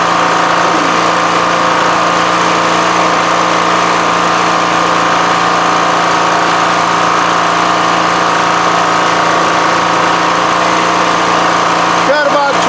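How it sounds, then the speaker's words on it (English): A generator engine runs loud and steady at a constant drone with a continuous hum throughout, close by, with a brief clatter near the end. "There should be some sort of a charger on this generator"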